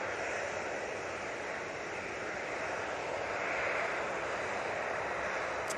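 Airliner taking off at Manchester Airport, a steady broad roar of jet engines at full power that stays loud and even throughout, with no voices.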